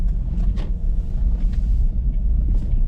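Low steady rumble from inside a moving car on a Ukrainian road, loud engine and road drone with faint whooshes of passing air, no talking.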